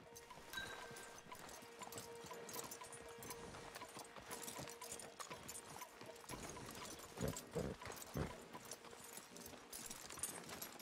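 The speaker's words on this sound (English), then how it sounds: "Javier, you're gonna lead the stallions." Horse hooves clip-clop steadily in Red Dead Redemption 2 as riders lead tethered stallions, a continuous trotting rhythm under game ambience with a few louder thumps near the end.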